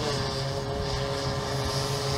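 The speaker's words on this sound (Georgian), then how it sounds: "ეს მაშორი დრონია." A Georgian drone fitted with a thermal camera flies overhead, giving off a constant whining propeller buzz with steady tonal hum and no talk.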